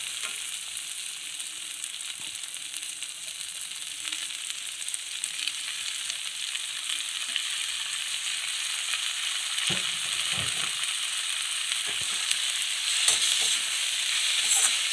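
Onions softened in a pan for a Tamil spinach kadaiyal, with tomatoes going in, fry with a steady soft sizzle and hiss throughout, plus a few brief clinks and stirring knocks near the end.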